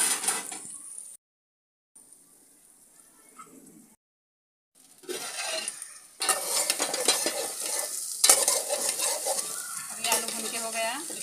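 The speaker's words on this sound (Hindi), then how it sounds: "अभी आलू भून के हो गया, इसे हम निकाल लेंगे इस बर्तन में।" Potatoes sizzle and fry in a pan with cumin and black pepper while being stirred, with brief silent gaps early on, then continuous loud frying and scraping stirs in the second half.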